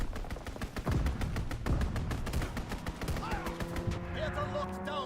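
Rapid bursts of automatic gunfire from a fighter aircraft strafing a target in a video game, loud and continuous, with electronic tones and game effects mixed underneath.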